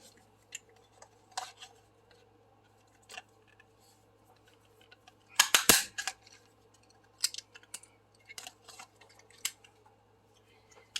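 Scissors snip through recycled cardboard for DIY earrings in scattered, quiet bursts of crisp crunching cuts, with one louder cluster midway, over a low steady hum.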